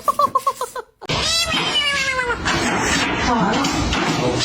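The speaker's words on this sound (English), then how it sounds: "One kitty." A pet cat meows several times in short, close repeated calls, then a long drawn-out wail rises over noisy background.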